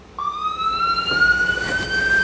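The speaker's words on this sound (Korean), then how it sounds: "우리 수동 사이렌 한번 소리 들어보실래요?" A hand-cranked manual siren, the kind a French battalion used in the Korean War, winds up loudly on its own, its wail climbing steadily in pitch.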